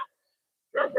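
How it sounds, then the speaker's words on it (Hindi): Dogs bark loudly outdoors after spotting someone: a short bark cut off at the very start, silence, then a sharp double bark close by. "क्यों ये कुत्ते क्यों भूख रहे हैं?"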